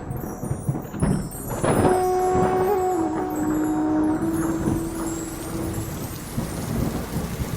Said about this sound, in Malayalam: കാടുകളിൽ മഴ പെയ്യുമ്പോൾ